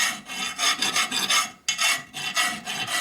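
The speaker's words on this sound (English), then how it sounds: "We're also taking the burr off so we don't cut ourselves." A hand file rasps across a part from a 1972 Harley-Davidson 1000cc Ironhead Sportster to take off a burr, close and crisp in quick repeated back-and-forth strokes with one brief pause midway.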